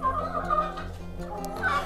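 Chickens on a Greek farm cluck steadily and close by, a dense, continuous chorus of fowl calls over low background noise, with no talk.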